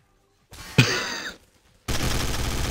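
A couple of sharp gunshot blasts in the video game Trouble in Terrorist Town, followed by a rush of noisy gunfire texture, loud and close.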